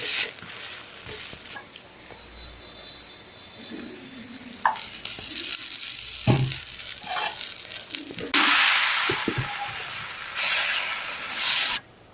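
A Madurai-style chicken kari dosa sizzles on a hot griddle after being flipped and pressed down lightly, with a spatula scraping and rubbing over a soft frying hiss that grows louder and denser toward the end.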